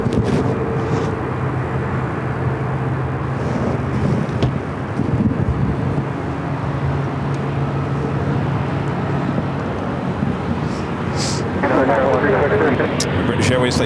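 A British Airways Airbus A350-1000 airliner arriving at Phoenix Sky Harbor from London Heathrow makes a steady, broad roar mixed with wind buffeting on the microphone, while voices talk over it throughout.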